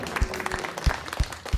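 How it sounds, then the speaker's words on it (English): A small audience clapping briefly during a talk on Bay Area craft beer, a short scattering of individual claps. "Yeah, clap it up."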